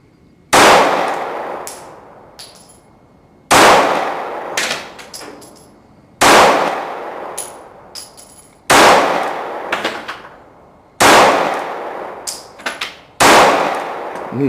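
Kel-Tec PF-9 pistol fired at an outdoor target, six loud, sharp shots spaced a few seconds apart, each with a ringing decay and faint metallic clinks between them.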